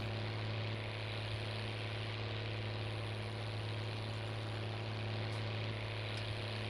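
A Case tractor engine in Farming Simulator 19 idles with a steady, low, rumbling drone that holds constant for the whole stretch, with no talking over it.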